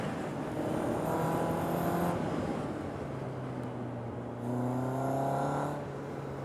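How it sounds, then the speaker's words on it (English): A Caterham race car drives around a circuit, its engine a steady, fairly loud drone with pitch shifting as it works through the gears, heard alone without talk. "Look at that car just darting around the track."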